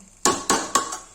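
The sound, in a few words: lid placed on cooking pot of mutton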